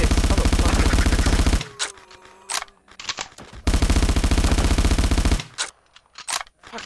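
Bursts of rapid automatic gunfire from a gun in a video game rattle loud and close, with two long sustained volleys broken by short gaps filled with sparse clicks and softer shots.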